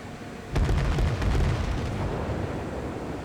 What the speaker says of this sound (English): One good salvo should finish him.